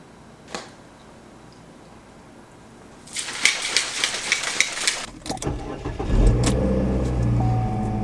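Inside a mother's car on a drive to the gym, a quiet cabin hum gives way to a louder rush of engine and road noise with clicks and rattles, ending in a steady low drone.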